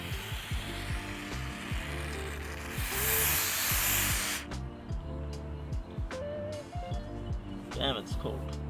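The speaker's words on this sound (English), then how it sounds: "And you just spray it on." A can of 3M Super Trim Adhesive sprays in one steady hiss of about a second and a half during a BMW E46 pillar trim repair, with someone talking before and after.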